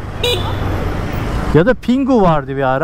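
A Yamaha Ray ZR scooter horn gives a brief thin toot near the start, followed by a person talking.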